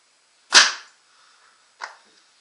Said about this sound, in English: So I'm going to do a clearing shot.